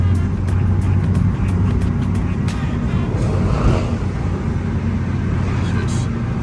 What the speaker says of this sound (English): Hey, I'm showing you how to drive a manual.